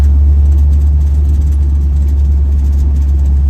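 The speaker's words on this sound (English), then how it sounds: "we're probably doing 20 miles an hour in fourth gear" A 1969 Jeep Jeepster in high range and fourth gear at about 20 mph, its engine giving a loud, steady low drone with continuous road and wind rumble from inside the cab.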